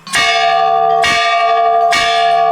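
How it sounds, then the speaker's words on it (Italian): Bell at an Indian temple struck three times at roughly one-second intervals, each strike ringing bright and metallic with a long sustained shimmer, loud and close with no voices. "si suona la campana."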